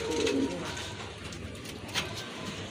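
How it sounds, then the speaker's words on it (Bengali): Pigeons in a loft, including a large Lahori, give a short, soft throaty coo near the start, then a quieter, steady background murmur of birds. "আরেক জোড়া কবুতর দেখতে পাচ্ছেন এখানে, খুবই চমৎকার।"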